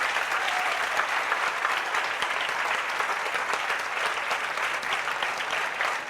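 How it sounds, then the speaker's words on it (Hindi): An audience at a cyber security awareness talk by Sonipat police applauds loudly to welcome a speaker, a dense, sustained wash of clapping from many hands with no pauses. "जोरदार तालियों से सर का स्वागत करो।"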